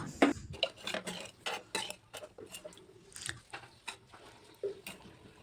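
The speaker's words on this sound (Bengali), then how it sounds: "এখন আমি পরিবেশন করার জন্য একটা বোলের মধ্যে স্যুপটা তুলে নিচ্ছি" Soup ladled from a pot into a serving bowl, with a quick run of close metallic clinks and scrapes of ladle against pot and bowl, irregular and fairly quiet.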